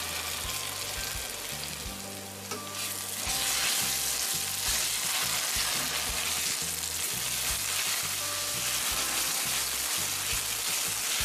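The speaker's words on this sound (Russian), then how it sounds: "Добавляю 2 столовые ложки томатной пасты и перемешиваю." Meat and onions frying with two tablespoons of tomato paste, sizzling and crackling steadily while being stirred, the hiss swelling louder after a brief dip early on.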